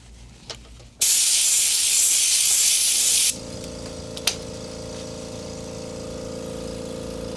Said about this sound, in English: I feel like I forgot to spray out the oil again.